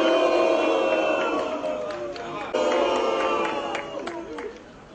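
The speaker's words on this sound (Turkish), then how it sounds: "Zafer Çağlayan'ı buradan yuhalayarak protesto ederek gönderiyoruz arkadaşlar" Protesters booing and jeering in front of a Halk Bankası branch in Mersin, a dense, loud crowd roar with shouted voices that swells, then slowly thins toward the end.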